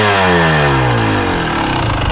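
Husqvarna TC250 dirt bike engine revving loud and close during a desert ride, its pitch climbing steadily through one sustained acceleration with no talk over it.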